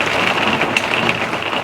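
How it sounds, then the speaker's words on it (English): Heavy rain drumming hard on the roof and walls of a small 20-foot rental RV, a dense, continuous close patter heard alone with no talk. "It's raining really hard out."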